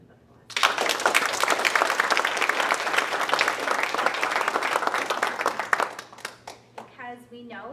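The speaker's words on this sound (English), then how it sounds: "I want to give all the youth that were involved in this project a big round of applause." A crowd applauds the youth involved in a school board project, loud dense clapping that starts abruptly after a brief quiet, holds for several seconds, then thins out and gives way to a voice speaking.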